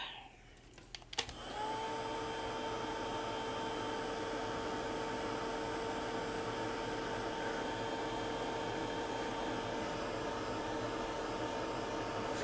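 A hair dryer dries paint on an altered paper flower: after a brief click it starts up and runs as a loud, steady, close whine with a constant tonal hum.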